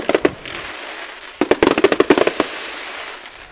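Loud firework bangs and crackles ring out after a nighttime varsity football game, a few scattered pops followed by a dense rapid burst of explosions, then fading crowd ambience.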